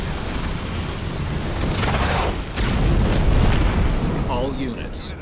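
A rumbling EMP blast in the Halo Wars 2 strategy game clears an enemy swarm, a broad roaring wash of sustained game noise with a sharp burst midway, under busy battle sounds and brief voiced radio chatter.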